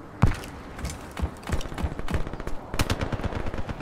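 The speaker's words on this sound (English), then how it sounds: "I'm not sure if I like the way this gun sounds either." AK-74u gunfire in a video game, a few loud single shots followed by quick bursts of automatic fire with mechanical clicks between them, with no talk over it.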